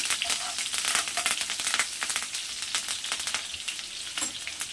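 Chopped onion and curry leaves hit hot oil already seasoned with cumin and mustard seeds for a tomato egg curry, giving a steady crackling sizzle with dense spitting pops and scraping stirs, close and continuous with no talk.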